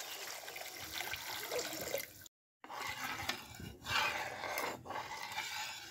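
Water poured into a cooking pot of fish curry right after the chili powder goes in, a steady rushing splash broken by a short pause, close and moderately loud with no talk.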